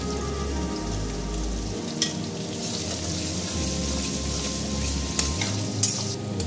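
Two finely chopped onions sizzle and fry steadily in a pan for kadai chicken, a continuous close crackle with a few brief stirring scrapes and clinks, no voices.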